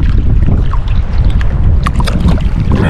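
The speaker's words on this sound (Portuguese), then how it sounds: "O vento agora vai demorar pra parar" Strong wind buffets the microphone beside the Tietê River during a tucunaré fishing trip, a loud continuous rumbling roar with gusty flutter throughout.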